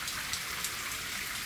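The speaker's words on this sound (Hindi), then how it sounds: "अरे भाई इतनी तेज बारिश आ रही है यहाँ तो।" Heavy rain pours down in a dense, steady hiss, close and loud, with no voices.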